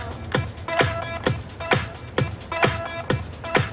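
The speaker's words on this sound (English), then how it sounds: "you continue on with your mix by slowly fading out of the first" Two dance tracks beat-mixed by a DJ, one fading into the other, with a steady thumping kick pattern about every half second and bright layered synth tones running continuously at a moderate level.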